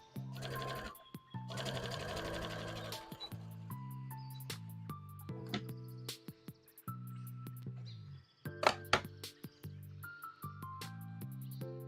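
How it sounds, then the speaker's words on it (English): A sewing machine stitches fabric pieces together in a home, running in repeated bursts of fast mechanical chatter with pauses and light clicks between runs, close and clear with no talk. "I'll show you what it looks like when I sew it together."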